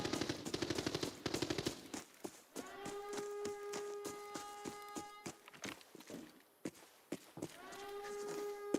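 Gunfire echoes through a shooting range in a video game, with rapid automatic bursts followed by spaced single shots and ringing metallic tones, fairly faint overall.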